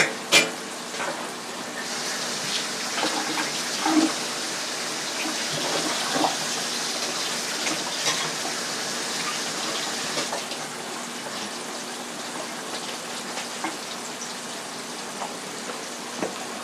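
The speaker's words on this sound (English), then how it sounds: "now we have our pork chops in frying" Pork chops fry in a pan with a constant, even sizzle and hiss, broken by a few faint pops and clicks, with no talking.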